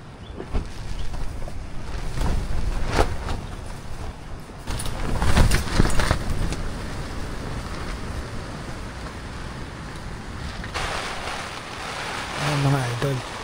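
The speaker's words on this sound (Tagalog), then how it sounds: "narinig niyo ba yung lakas ng hangin tsaka yung ulan?" Strong wind gusts and rain roar around a foggy overnight campsite at Maple Nature Camp in Sta. Maria, Laguna, a broad steady rush that swells and fades over several seconds, with faint low voices underneath.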